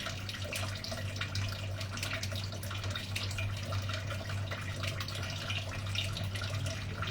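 Water poured into a cooking pot in a home kitchen, a continuous splashing trickle with a steady low hum underneath, moderately quiet and unbroken throughout.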